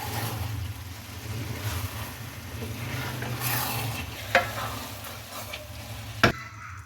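A spoon gently stirs chana pulao in a cooking pot, making soft scraping and stirring sounds over a steady low sizzle and simmer, with two sharp metallic taps near the end. No one speaks.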